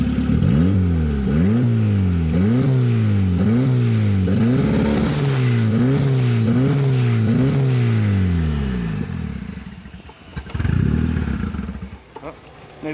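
Turbocharged Honda F23 Accord engine with a large vacuum leak, idling low around 1,000 rpm with a rhythmic, lumpy pulsing that wavers up and down, then dips and stutters near the end.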